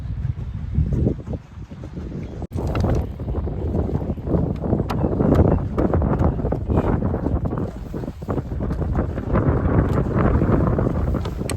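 Wind blows across the shore of Lake Endine in Italy, a loud, continuous roar of gusts buffeting the microphone with low rumbling throughout.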